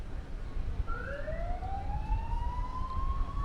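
A single emergency vehicle siren rises in a long sweeping wail somewhere away from a ballpark, thin and distant over a steady rumble of background noise.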